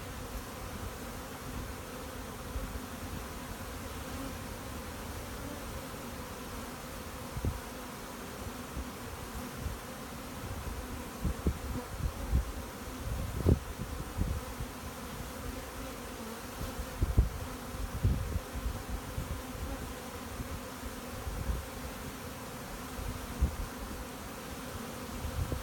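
Honey bees buzz steadily around a beehive, with a dense, continuous drone and louder individual bees passing close now and then.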